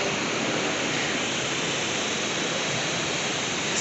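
A mountain river rushes below a hotel among snowy peaks, a dense, unbroken roar of flowing water heard from a distance with no voices over it.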